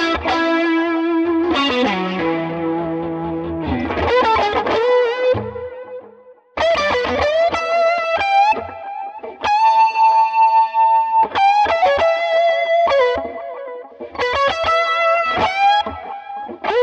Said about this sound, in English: I'll play the solo isolated and soloed so you can then hear how it sounds with the overdrive engaged and with it bypassed